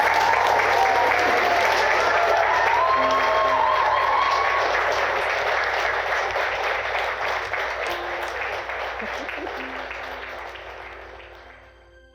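A wedding crowd bursts into sustained applause right after the couple's kiss: dense, steady clapping from many guests that holds for several seconds, then slowly fades out.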